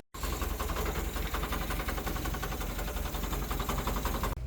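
A Toyota Cressida engine idling steadily and loud close by, with an even, rumbling throb throughout and an engine note that hints at a fault, no talk over it.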